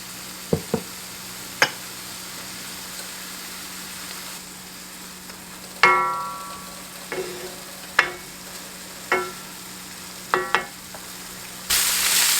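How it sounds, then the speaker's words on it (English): Ground beef and onion cook in a pan for hamburger gravy. A low, steady frying hiss is broken by about a dozen sharp scrapes and clanks of a utensil against the pan, spaced irregularly, with no talking. "I've got the beef cooking. I'm going to add some onion."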